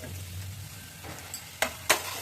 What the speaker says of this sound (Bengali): একবারে হাই হিটে নেড়ে ছেড়ে নিচ্ছি।